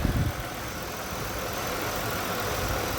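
A steady, low engine of a 2002 Buick LeSabre idles close by, a continuous rumble with no talking.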